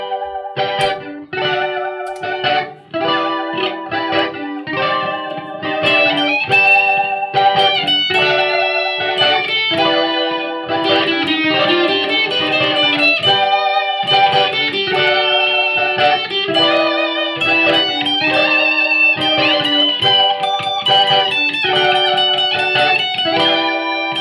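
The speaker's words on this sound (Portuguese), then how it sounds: "vou colocar uma distorção para a gente sentir como modula o som" A looped cavaco cigar box guitar played through a POD HD 500 pedalboard with distortion gives a loud, continuous run of buzzy, effect-heavy plucked notes and chords, with no talking.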